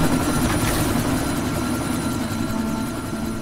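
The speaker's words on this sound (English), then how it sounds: "That chopper's about to take..." A helicopter from the video game Deus Ex: Mankind Divided makes a loud, steady rotor roar with a constant low engine rumble that holds throughout, alone with no talking.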